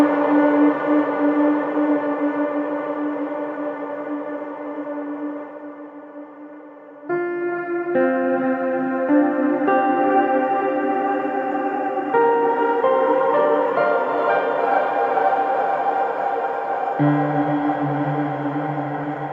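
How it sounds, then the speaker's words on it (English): Sustained synth tones pass through a Cloud Seed reverb plugin set for an eerie, seasick pitch wobble, the chord shifting and smearing with lush echoing tails across a long continuous stretch. "start getting this sort of seasickness effect, which is quite interesting for special effects"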